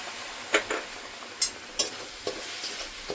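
Milk powder fries in a pan for a beetroot ladoo sweet, with a steady soft sizzle broken by several sharp scraping clicks of stirring, close and alone without talk.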